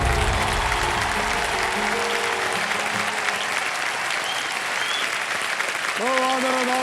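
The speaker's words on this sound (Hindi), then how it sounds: "मैं इस दौर के समापन का प्रारंभ उन्हीं तालियों के साथ करना चाहूंगा।" Loud, dense applause from the studio audience of the quiz show Kaun Banega Crorepati, a continuous wash of clapping with background music tones rising under it near the end.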